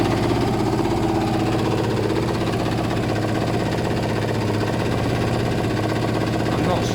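A Kawasaki ZL600 motorcycle engine idles steadily up close before reaching operating temperature, a continuous even mechanical hum with a faint rhythmic knock, alone without talk.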